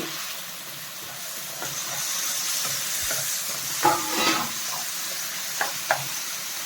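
Chopped tomatoes sizzle in a hot pan for a potato masala bonda filling, a steady close frying hiss with a few sharp stirring clicks near the end.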